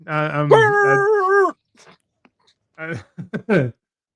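A voice imitates a dog bark during a wrestling podcast, a sustained growling bark-like vocal followed by a short pause and a few choppy barking yelps, close and loud.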